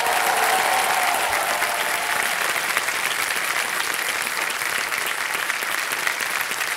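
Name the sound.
applause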